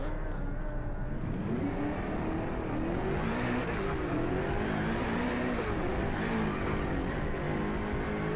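An Ariel Atom race car engine in the racing game Driveclub VR drones steadily with a rising and falling whine as it revs through gears, continuous and fairly loud.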